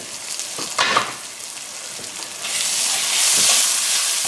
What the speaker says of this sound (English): Now let this just cook down for about a minute and a half or so